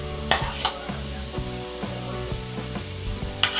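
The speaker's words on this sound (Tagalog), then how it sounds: "Ngayon po ay ilalagay na po natin ang ating bawang" Garlic frying in cooking oil for squid adobo, with a steady sizzle and a few sharp clinks and scrapes of a utensil against the pan, close and without talk.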